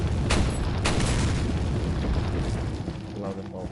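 Tripwire bombs are shot in Resident Evil 4 and go off as two heavy booming blasts in quick succession, followed by a loud rumbling roar that slowly fades.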